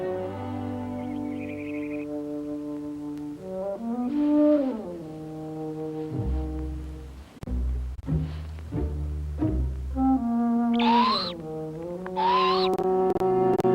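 A wise old owl calls in a wilderness scene from a 1971 Disney nature film: a series of hoots rings out under an orchestral score, with a few louder, rising calls near the end.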